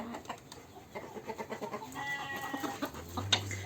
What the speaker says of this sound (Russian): Смотрите, у меня петух какой